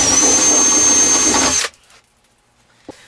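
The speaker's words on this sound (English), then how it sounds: "we're going to use a drill bit here, and we're going to punch through the roof" A power drill bit bores through the roof of a Forest River pop-up camper tent trailer, whining loud and steady for about a second and a half before cutting off abruptly, followed by a small clunk.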